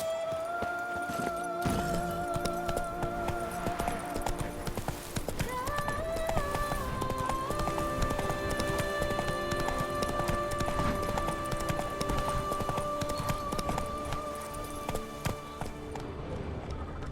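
Roach the horse's hooves clip-clop steadily in The Witcher 3, a continuous mid-distance gait under a sustained musical score, with no talk over it.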